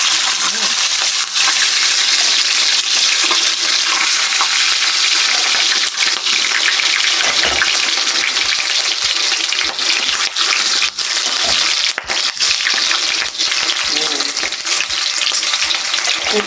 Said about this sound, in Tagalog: Saglit lang po talaga yung gagawin kong prito para hindi naman siya tumigas.